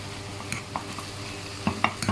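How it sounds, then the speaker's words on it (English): Tomato being mashed and stirred in a pan for chicken curry, with soft sizzling frying underneath and a few scattered clinks and scrapes of a utensil against the pan. "I have to smash the tomato, so the juice will come out."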